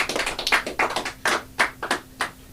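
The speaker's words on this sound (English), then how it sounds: "Round of applause if you have more than 3 black friends" Comedy show audience at a live stream gives a small round of applause, a few distinct claps in an uneven rhythm, close and fairly sparse, with no talking over it.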